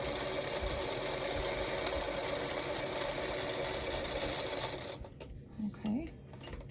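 Singer Featherweight sewing machine stitching fabric, a steady close motor whir with rapid needle clatter for several seconds before stopping, followed by a brief voice.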